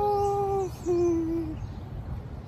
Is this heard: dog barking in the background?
no